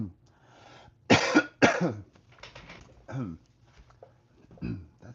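Two harsh coughs burst out close by, followed by throat clearing and a few quieter coughing sounds amid near silence.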